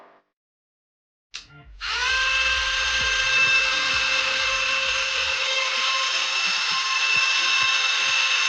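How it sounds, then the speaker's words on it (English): Cordless Bauer Dremel fitted with a small cutoff wheel, cutting a stuck bolt on a mini bike: a short bump, then a steady high-pitched whine that holds loud and even while the wheel grinds into the metal. "I'm gonna take my cordless Bauer Dremel here"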